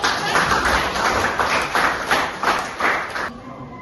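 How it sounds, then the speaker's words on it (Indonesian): A small classroom group claps together in a rhythmic, pulsing pattern of sharp hand claps, fairly close and moderately loud, stopping abruptly near the end. "Oke, beri tepuk tangan."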